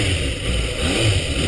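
Yamaha 400 and Honda Hurricane 400cc motorcycles rev hard together, a steady loud engine roar with mid-range clatter that holds throughout.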